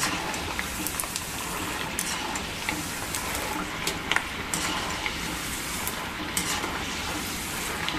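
Peanuts frying in hot oil in a pan while making Satara-style bhadang, a steady close sizzle with faint stirring scrapes throughout and no talking.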